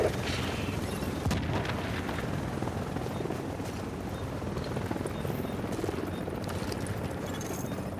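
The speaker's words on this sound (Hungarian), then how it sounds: "Gyertek, jön a helikopter" A helicopter arrives in the video game Tom Clancy's The Division in its Dark Zone, a steady rumbling rotor drone mixed with dull booms and crackling game noise, heard alone without talk.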